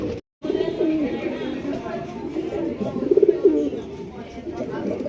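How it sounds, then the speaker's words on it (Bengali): A pair of pigeons coo in soft, repeated low throaty calls at a pigeon farm, with a brief dropout near the start and a busy background of other sounds. "ডাক দেখছেন অস্থির অস্থির প্রকৃতির একজোড়া আপনার চিলা কবুতর"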